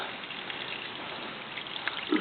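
Hot water runs steadily out of an opened fitting on an Ottaway steam train, a continuous close gushing trickle with no talk over it.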